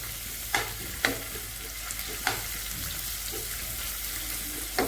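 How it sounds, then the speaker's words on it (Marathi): Chopped onion and green chili sauté in oil for a garlic fenugreek dish, with a continuous close sizzle and several sharp spatula scrapes and stirs at irregular intervals. "मी आता कांदा टाकलेला आहे, आता हिरवी मिरची टाकते। त्याला छान तेलामध्ये परतून घेते।"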